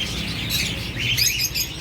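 African lovebirds in a pet shop give rapid, high chirps and tweets that overlap continuously, close and fairly loud with no talking.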